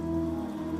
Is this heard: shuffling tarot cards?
no